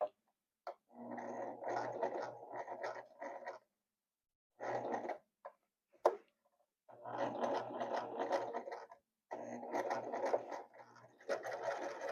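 A small home sewing machine works slowly through a bulky denim hem, running in several stop-start stretches with brief pauses and a few clicks between them, fairly quiet and close.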